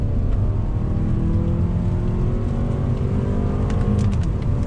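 A 2019 Mazda 3 AWD hatchback accelerating hard in second gear on pavement, with a loud, steady engine drone rising gradually in pitch and heavy low rumble and road noise throughout.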